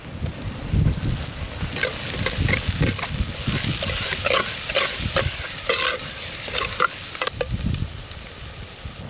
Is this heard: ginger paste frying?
yes